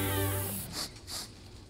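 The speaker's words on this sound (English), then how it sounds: "Is that April's cat?" A cartoon cat gives two short, fairly loud meows after a tonal sound fades, each cry rising and falling, with no talk over them.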